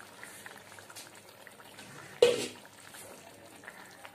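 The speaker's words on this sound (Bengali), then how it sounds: "ঝোলটাকে ফুটতে দেব মিডিয়াম ফ্লেমে।" Pabda fish curry bubbling in a pot over a medium flame, a soft steady simmer with one brief louder hiss or clatter midway, heard close with no talking.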